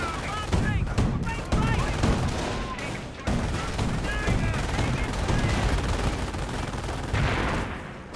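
Company of Heroes battle gunfire, dense bursts of machine-gun and rifle fire rattling continuously at close range, with a brief break, loud and busy under intermittent talk.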